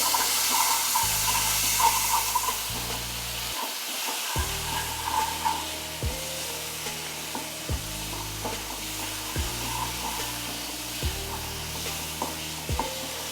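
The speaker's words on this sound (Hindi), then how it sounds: "तो देखिए मसाला हमारा अच्छे से भुन गया है।" Masala for a bitter gourd curry frying steadily in a pan, a continuous close sizzle with periodic stirring scrapes and knocks throughout, no talk.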